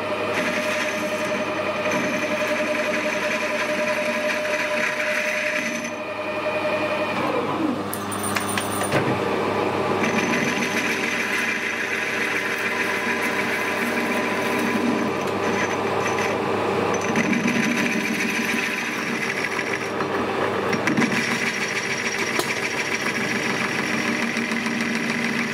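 A machine cuts weld off aluminium with a continuous grinding, whirring drone carrying steady tonal lines and occasional brief shifts in pitch, running alone without talk.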